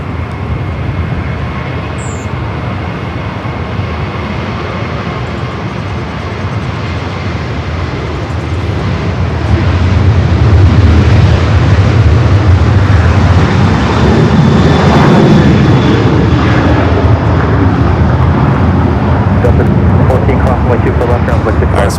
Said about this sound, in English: Speedbird about to take off there on the south side